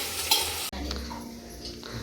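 Amber curry being stirred in a pot on the stove for a Dussehra festival meal, with a close, steady scraping and bubbling that cuts off sharply once, then resumes under a low hum.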